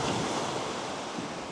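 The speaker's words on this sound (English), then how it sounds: "of listening to the waves," Ocean waves wash in a steady, dense roar of surf, loud and close, with a rushing wind-like hiss and no voices over it.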